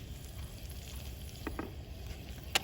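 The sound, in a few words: onion frying in hot ghee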